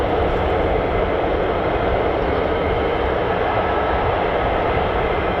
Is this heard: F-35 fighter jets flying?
yes